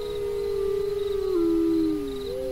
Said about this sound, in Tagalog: umalulong ang mga aso ng kapitbahay